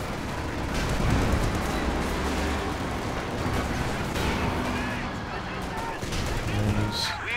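Battle sounds from Company of Heroes 2, a real-time strategy game, with Panzerschreck anti-tank rockets and bursts of gunfire striking a Valentine tank. The fire comes in repeated loud blasts and rattles beneath steady commentary.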